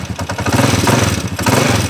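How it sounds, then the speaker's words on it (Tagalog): A Honda TMX 155 motorcycle engine runs noisily, a loud, close, rough idle with rapid uneven clattering pulses and heavy low rumble, no voices over it. "Ayan, napakaingay ng makina oh."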